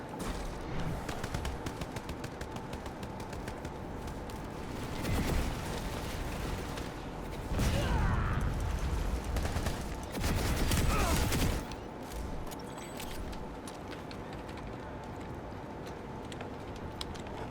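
PlanetSide 2 infantry battle with dense bursts of automatic gunfire and a continuous din of game effects, louder surges midway, and no voice over it.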